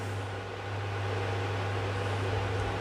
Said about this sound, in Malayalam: ഇതിപ്പോൾ കുക്കർ ഓണായിരിക്കുകയാണ്.